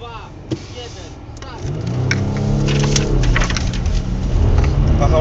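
A car pulls away from a standstill at a driving skill trial for a charity event in Szczecin, its engine rising steadily and close by after a brief knock, with a few spoken words just before it sets off.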